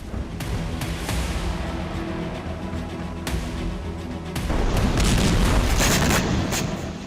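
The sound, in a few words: rocket explosions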